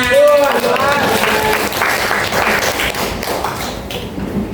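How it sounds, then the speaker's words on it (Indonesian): After a brief voice, a classroom group at an Indonesian teacher-training session breaks into loud applause, a busy mix of claps and taps that gradually thins out. "Tepuk tangan."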